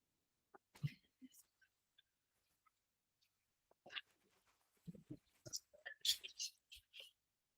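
A short, sharp sneeze bursts out near the start, followed by scattered quiet noises and brief murmuring sounds later on.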